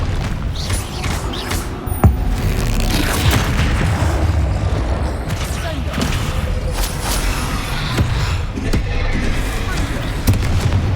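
Repeated spell explosions and impacts in Hogwarts Legacy combat, a dense run of booms and cracks with one sharp hit early on, loud and busy, with a voice calling out between blasts.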